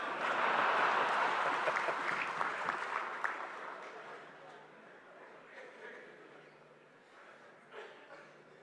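An audience claps loudly during PM Modi's address at an ASSOCHAM event, the dense applause fading gradually into scattered claps.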